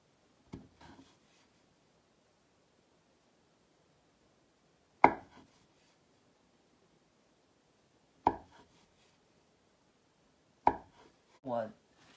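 A knife cuts slits into rolled pastry dough for peach blossom pastries, four sharp, isolated taps against the board spaced several seconds apart, near and clear in a quiet room.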